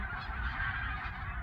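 Seagulls crowd the shore of a coastal fishing village in Seosan at daybreak, their massed calls forming a steady, overlapping chorus that fills the whole moment.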